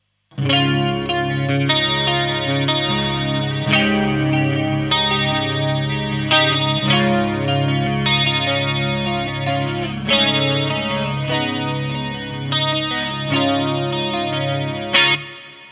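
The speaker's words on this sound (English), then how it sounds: "Let's add some chorus as well." Electric guitar through a Fane Crescendo AE speaker with a shimmering chorus effect, strummed clean chords ringing out steadily and loudly for several bars, no voices.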